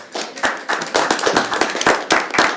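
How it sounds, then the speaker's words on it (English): Several people clap together at a city commission meeting, honoring a barbershop harmony society's anniversary. The claps come quick and overlapping, fairly loud and close, in uneven bursts with no voices. "We gotta give a round of applause for that."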